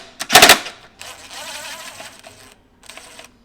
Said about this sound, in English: Alright, so now I'm going to begin removing the EGR screws.